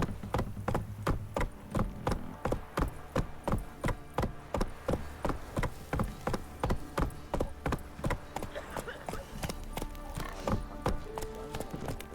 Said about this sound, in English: I really hope Ciri's horse is smarter than Witcher 4